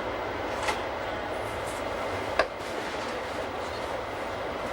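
Swiss Glacier Express train hauled by a GE 4/4 III electric locomotive, one of nine built in 1994 by SLM Winterthur, rumbling steadily along the rails with two brief sharp clicks over a constant broadband roar.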